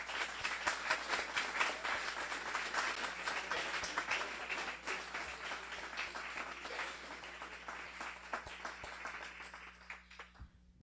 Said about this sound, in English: let's just have one more celebratory round of applause